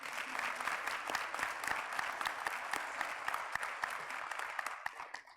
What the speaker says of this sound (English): So give yourselves a huge round of applause for successfully making it through the first stage of your nursing